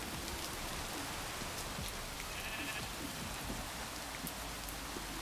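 Rain falls in the Minecraft video game as a constant, even hiss of drops that fills the clip, with a faint sheep bleat midway.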